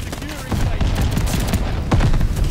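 A shotgun fires in a video game in rapid, booming bursts, loud and close, with a voice talking over the gunfire.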